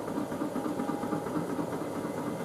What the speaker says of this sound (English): We have gone straight into an emergency rinse.